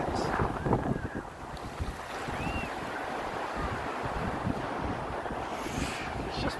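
Wind blowing over a walking trail, buffeting the microphone in a continuous low rumble and roar that stays loud for the whole stretch, with no voices.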